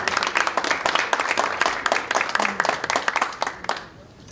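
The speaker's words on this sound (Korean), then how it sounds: "큰 박수 부탁드리겠습니다." An audience claps at a political party committee's launch ceremony during an appointment presentation. The applause is close and crisp, with distinct individual hand claps that thin out and stop near the end.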